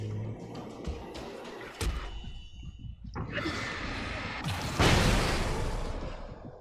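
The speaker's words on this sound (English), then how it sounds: "Basically like a flashbang" A flashbang-like blast goes off in the Alan Wake video game, a sudden broad whoosh followed by a sustained roaring burst that swells again near the end amid ambient game noise.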